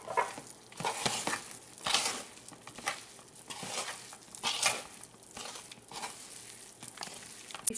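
Spinach kofta mixture being stirred and mixed by hand in a bowl, with soft, irregular squelching and scraping bursts that come and go in an uneven rhythm at close range, no voices.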